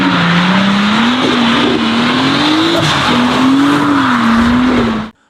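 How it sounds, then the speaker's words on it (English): A rebuilt 2018 Nissan GT-R with traction control off spins donuts on a wet road. Its tires squeal in one long, wavering howl over a loud engine roar, then the sound cuts off abruptly. "He turns off traction control and tries to pull some fast donuts."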